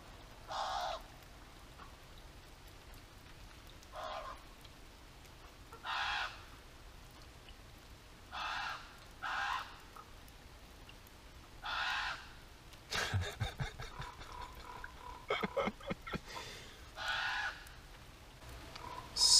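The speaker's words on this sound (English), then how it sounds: "The birds are a little bit loud, so you'll have to put up with them." Crows caw loudly outdoors in repeated bursts spread across the whole stretch, with a patch of rapid clattering knocks partway through and a quiet background between calls.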